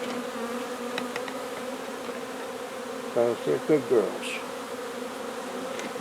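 Honeybees hum softly and continuously around a beekeeper's hive, a faint close drone that runs throughout while someone speaks briefly over it.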